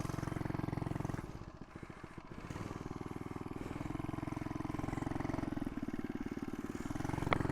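Small FRP GMB100 mini bike engine revving hard and steady throughout, dipping briefly around a wheelie before climbing back to a loud, buzzing drone close to the listener.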